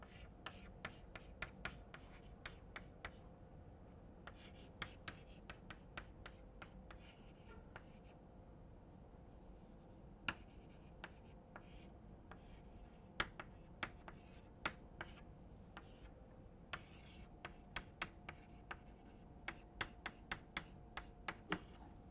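A pen writing equations by hand for a lecture on angular momentum, with faint, irregular scratches and light taps scattered throughout and no speech.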